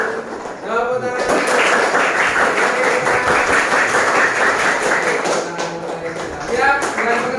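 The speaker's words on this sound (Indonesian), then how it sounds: "Oke, tepuk tangan." Classroom of students clapping hands together in a sustained, dense burst of applause-like claps lasting several seconds, with a voice speaking briefly at the start and end.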